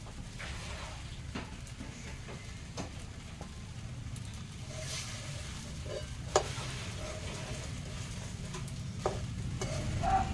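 Sabudana khichdi fries softly in a pan over a village wood-fired chulha, a low steady sizzle broken by scattered scrapes and taps of stirring, with no voices.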